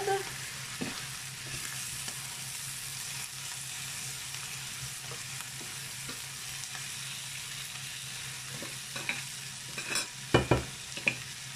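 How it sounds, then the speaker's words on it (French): Filet mignon and forest mushrooms, likely chanterelles, sizzle steadily in a hot pan, a constant close frying hiss with occasional stirring scrapes and light clatter near the end. "Allez, on fait bien griller tout ce petit monde."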